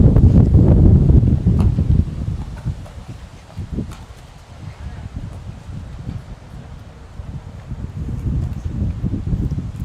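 Strong wind buffets the microphone at an outdoor pickleball semi-final in Melbourne, with loud low gusts that ease and then build again, and faint sounds of play underneath.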